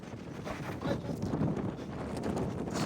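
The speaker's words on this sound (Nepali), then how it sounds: "ओए कस्तो हावा लाग्यो त यार" Wind in Mustang, Nepal, buffets the microphone in a steady low rumble, gusting slightly louder partway through, with no clear voices.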